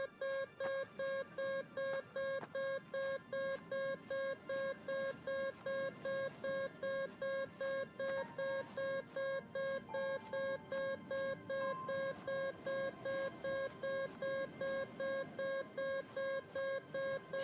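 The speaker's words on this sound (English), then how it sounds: "Solid beep." A video game beep repeats steadily, a clipped electronic tone pulsing about twice a second throughout, with a faint second tone joining partway.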